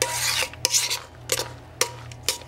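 A spoon stirs semi-sweet chocolate chips into boxed cake mix batter, giving short scraping strokes against the bowl with a few sharper clicks, close and fairly quiet over a low steady hum.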